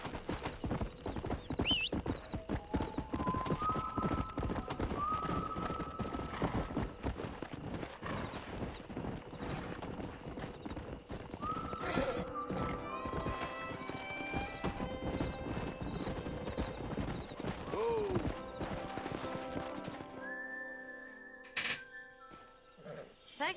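Horse hooves clip-clop steadily through most of the stretch in Red Dead Redemption, loud and close, with a horse whinnying now and then and a game score playing underneath.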